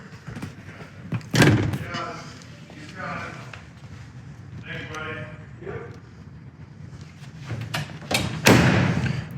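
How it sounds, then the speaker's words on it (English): Two heavy door thuds from a 1968 Chevrolet Camaro SS, one early and one near the end, with quieter shuffling and handling noises in between. "Doors close excellent."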